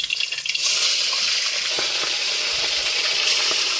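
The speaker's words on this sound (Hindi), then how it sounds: "तो ये देखिए फास्ट फ्राई हम लोग कर रहे हैं, फास्ट फ्राई, फास्ट बार, दो बार फ्राई करना पड़ेगा, ज़्यादा है मछली।" Fish pieces fast-fried in hot oil for a village-style fish curry, cooked outdoors in the rain, hiss in a loud, continuous sizzle that swells after a brief quieter start and stays up close.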